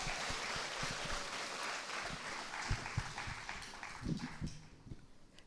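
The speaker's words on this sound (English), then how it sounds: "Give her a big round of applause." Applause from an audience at an International Women's Day celebration, a dense patter of clapping that swells in louder bursts before fading, with faint talk underneath.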